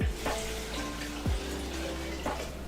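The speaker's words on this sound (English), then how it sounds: "Okay, now we're gonna go on and add some water." Tap water pours into a pot of beans, a steady close splashing stream with a few brief gurgles and bumps, no talking.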